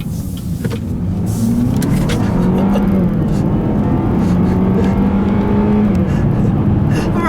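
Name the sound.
2015 Buick Regal GS AWD accelerating in GS mode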